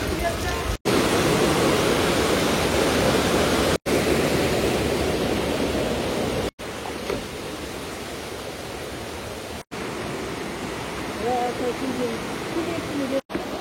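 Falling water sprays onto a walkway at Zhangjiajie Grand Canyon, a loud, steady rushing hiss close by that cuts out briefly a few times.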